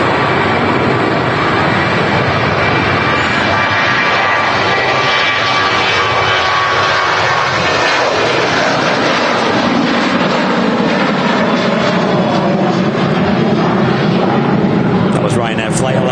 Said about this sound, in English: Ryanair flight 1175 heading up to Porto